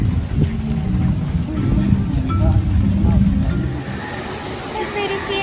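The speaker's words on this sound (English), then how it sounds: "No worries, even in the rain." Steady rain at an outdoor theme park, a dense continuous hiss of falling drops with a rumbling low undertone, heard beneath people talking nearby.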